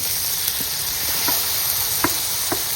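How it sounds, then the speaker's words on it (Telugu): Tomato pieces for a guinea fowl curry fry in a pan with a constant loud sizzle up close, punctuated by a few soft stirring taps, with no voices. "టమాటా వేసుకున్న తర్వాత చక్కగా ఒక 2 మినిట్స్ అలా ఫ్రై చేసుకుందాం"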